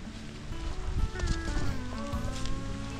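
Rain falls steadily outdoors along a road, a broad continuous hiss over low rumbling and faint tonal whines, lasting about three seconds with no talk.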